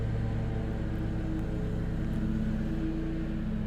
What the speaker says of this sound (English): I apologize for that lawnmower.